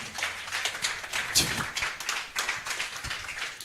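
A church congregation in a Kenyan worship service claps together to welcome the preacher, with dense, steady rhythmic handclaps filling the room and a brief louder burst partway through.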